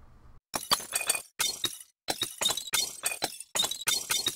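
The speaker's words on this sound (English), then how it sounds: "We've got a nice little intro screen of bottles breaking." Glass bottles shatter repeatedly on an indie chemistry game's intro screen, a series of sharp crashes and tinkling shards in uneven bursts separated by short silences, with no talking.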